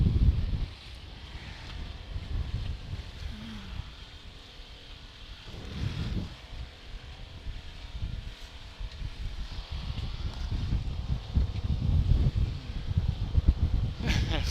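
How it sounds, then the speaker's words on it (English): Wind buffets the microphone aboard a small boat cruising Amsterdam's waters, low rumbling gusts rising and falling throughout while people talk nearby. "Now we're into the wind, unfortunately."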